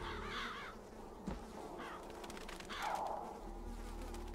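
Crows caw in the BioShock Infinite video game, a few harsh calls rising out of a buzzing insect-like ambience with scattered quieter game sounds.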